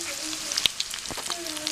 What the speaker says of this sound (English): I've got the sausage cooking